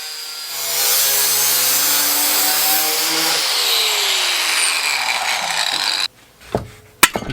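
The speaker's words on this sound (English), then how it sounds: "Then we mark it on our sheet metal. Then we give it a cut." Sheet metal is cut for a rust-repair patch panel on a 65-year-old International Harvester fender, a continuous loud rasping, grinding cut that slides lower and ends, followed by a few sharp metallic clanks.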